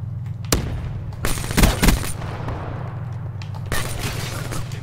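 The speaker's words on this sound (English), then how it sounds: "What is it with all the fucking shotguns?" Shotgun blasts in a multiplayer video game: a few sharp, booming shots spaced a second or two apart over a steady low in-game rumble, loud and close, with no talking.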